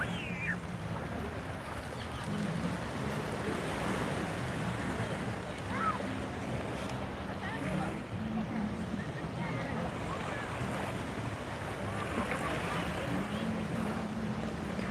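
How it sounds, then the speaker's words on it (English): Ocean waves wash onto Waikiki beach in Hawaii in a soft, continuous surf roar with wind buffeting the microphone, fairly distant and low, with no speech. "It's relaxing just hearing the waves when I'm not yapping"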